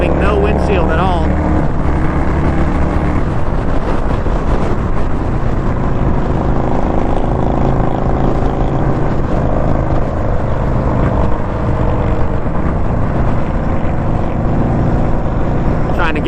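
A 2021 Indian Scout Bobber motorcycle cruising on a highway at about 70 mph without a windshield, with a loud, steady engine drone and heavy wind roar throughout, while a rider talks over it.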